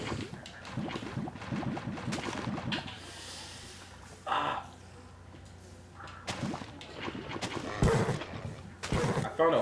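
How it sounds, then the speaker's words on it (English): A horse neighs and snorts in the video game Minecraft, a few short whinnies and snorts that come in bursts with quieter gaps between them and no speech over them. "I found a horse."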